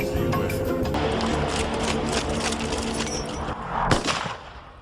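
A rapper fires a toy gun at a clown dressed as Donald Trump, producing loud bursts of rapid gunfire-like pops with a sharp crack near the end.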